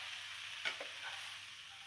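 Aubergines with spices and herbs stirred in sizzling olive oil in a pan, a steady close frying hiss with a brief scrape of turning around the middle and no talk.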